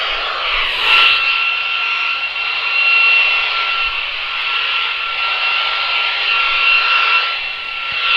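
Continuous loud static from a Kinnota R5 Mini radio on an external antenna, indoors, with faint tonal whines running through it, a broad hissing roar that barely changes over several seconds.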